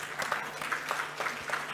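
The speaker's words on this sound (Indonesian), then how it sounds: "boleh tepuk tangan?" An audience at a talk show clapping in a brief, fairly faint patter of applause, with no voices over it.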